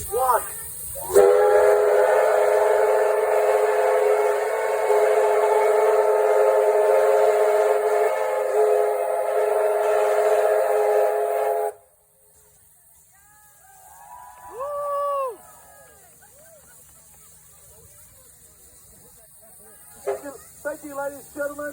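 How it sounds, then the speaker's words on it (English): A K-Class locomotive horn blasts at a railway open day, one loud sustained chord-like blast lasting about ten seconds before cutting off sharply, followed by quieter crowd sounds and a brief announcer's voice. "Thank you, K-Class Locomotives. Another whistle off, please."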